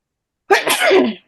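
One sharp, loud sneeze bursts out of silence, close to the listener, lasting under a second before cutting off.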